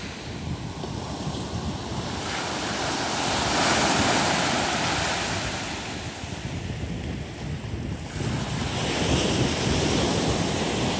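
Waves washing onto the Lake Huron shore on a windy day before a storm, a continuous surf roar that swells and eases, with gusts buffeting the microphone and no talking.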